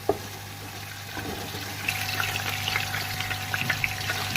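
Chicken browning in a pot for a Pakistani-style palao, turned and stirred as it fries: a steady low sizzle with scattered crackles and pops that grows busier, plus occasional utensil clinks, with no talking.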